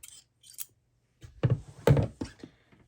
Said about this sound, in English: and then you can cut your yarn